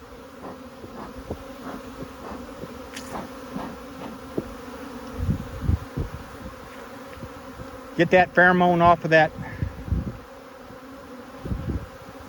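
Queenless honeybees fly around a hive in a continuous buzzing hum, with someone speaking briefly midway and scattered bumps and handling noises nearby.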